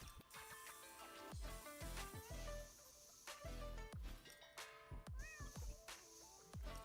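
A cat meows in the video game Wuthering Waves, several clear, fairly loud meows rising and falling over a bed of game music with percussive hits.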